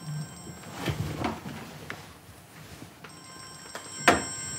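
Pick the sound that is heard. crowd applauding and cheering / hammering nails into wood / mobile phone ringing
mobile phone ringing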